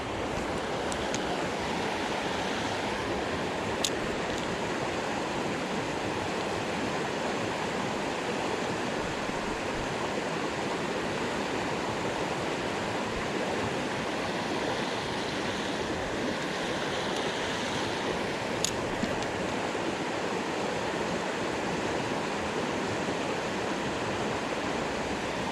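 Creek water flowing at a trout fishing spot, a dense, steady rushing wash that continues unbroken for the whole stretch, close and full, with no talking.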